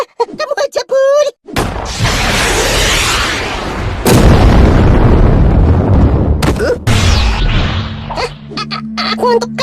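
A rocket blast in an animated cartoon, a loud roaring explosion rumbling for several seconds, then cut off and followed by a second heavy burst that fades under a low hum.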